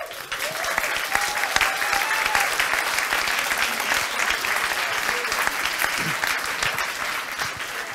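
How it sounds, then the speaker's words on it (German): A large audience gives loud, sustained applause at the 5th Erfurt Science Slam, a thick continuous wash of clapping that holds steady throughout, with a few faint voices mixed in. "ihr haut beim Science Slam, beim 5. Erfurter Science Slam, so einen richtig fetten Applaus für alle Leute des Abends hier raus"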